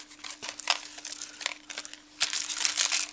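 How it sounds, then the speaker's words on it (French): Adhesive tape being peeled and pulled off during a desk-organizer craft tutorial, a run of crinkly, tearing rasps with a louder, sharper strip near the end, close and alone. "On enlève le scotch."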